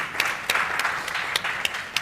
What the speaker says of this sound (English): Please, a round of applause to the panelists.